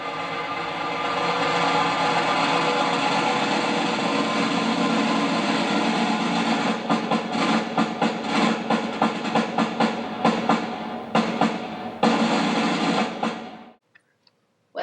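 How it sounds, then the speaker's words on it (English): Snare drum roll with rattling snare wires, a dense continuous buzzing roll that breaks into faster separate strokes near the end before stopping abruptly. "It rattles and helps produce the snare's special sound."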